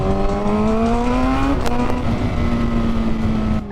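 A motorcycle surges in a sudden burst of acceleration, its engine note climbing loud and close for a second and a half before dropping back to a steady, droning hum amid road noise.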